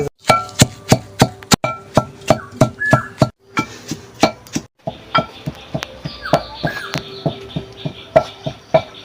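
Garlic and onion are pounded on a stone slab (pata), giving a steady run of sharp, close knocks at an even rhythm. The knocks pause briefly, then resume, with faint birdsong in the background.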